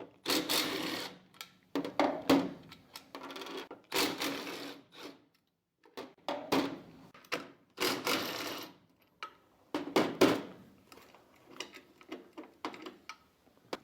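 Socket wrench turning a bolt on a Harbor Freight utility cart, heard as bursts of quick metallic ratcheting clicks with short pauses between them, up close and with no talking.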